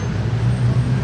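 A McLaren Senna supercar drives through the streets of Monaco, its engine a steady low rumble close by, with no talk.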